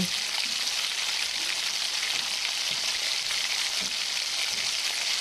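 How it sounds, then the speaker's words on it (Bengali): Finely chopped onion frying in hot oil, a continuous bright sizzle with soft crackles and occasional light stirring, steady and close throughout. "এবারে ওই তেলেই একটা পেঁয়াজ খুব মিহিন করে কেটে ভাজতে দেব"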